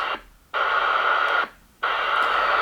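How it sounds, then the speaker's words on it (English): Weak CB radio signal received on channel 26 through a mobile CB set: bursts of hissy, static-laden noise that cut in and drop out twice, each lasting about a second, with no clear voice. "there is something on channel 26. There's a weak signal coming in"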